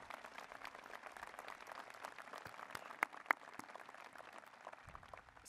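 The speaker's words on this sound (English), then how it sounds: "Let's pause for a minute and give our students a round of applause" An audience at a university presidential inauguration applauds its Radford students with faint, distant, steady clapping, broken by a couple of sharper nearby claps partway through.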